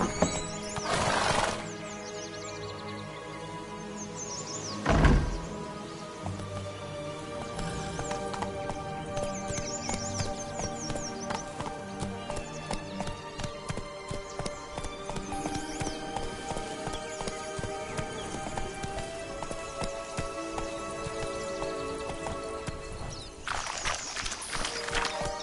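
Horse galloping in The Witcher 3, a rapid, rhythmic clip-clop of hooves running steadily over ground, with a neigh or whinny near the start and another burst near the end, no talking.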